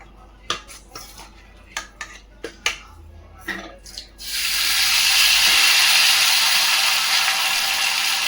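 Fish frying in hot oil on a tawa in an Odia village kitchen, a steady loud hiss and sizzle that starts abruptly and holds, preceded by several sharp clinks of utensils.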